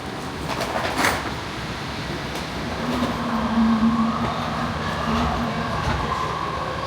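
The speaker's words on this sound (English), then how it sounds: "The next train arriving on track 1 is going to JFK Airport" A JFK AirTrain pulls into the station with a steady rolling rumble and a faint high whine. The sound stays constant throughout and nothing else is heard.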